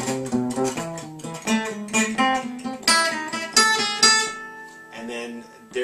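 Gypsy jazz acoustic guitar runs lower neighbor licks in steady triplets, a continuous even stream of quick picked notes climbing in pitch, played solo and up close.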